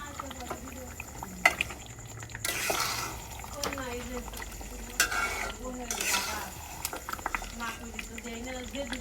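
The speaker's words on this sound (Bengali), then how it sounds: "মাংসটা ভালোভাবে নাড়াচাড়া করে দিতেছি।" Marinated chicken stirred into frying masala for chicken pulao, with a bubbling sizzle and intermittent scraping of a spoon, while a person talks over it.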